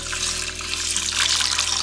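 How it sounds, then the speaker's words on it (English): A cup of water is poured into an Instant Pot with brown rice, making a continuous, close splashing and trickling sound with no talking. "I'm gonna add in 1 cup of water."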